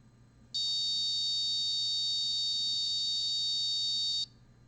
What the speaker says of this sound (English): I am going to sound the buzzer on the Pibrella. When I turn it on, it makes a steady sound.